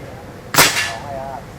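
A single sharp gunshot at a fun shoot competition, loud and close, cracking out alone and followed by a brief fading ring.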